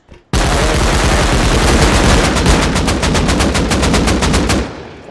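Loud, close automatic gunfire in a first-person shooter video game, one long rapid burst of rattling shots lasting several seconds before cutting off.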